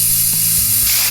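A spray can hisses in one steady, continuous burst for about a second before cutting off abruptly, with no voices.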